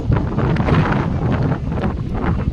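Strong wind buffets the microphone in a steady, loud roar at a waterside fair for Hanuman Jayanti, where people gather on the bank near a shrine standing in the water; no voices are heard.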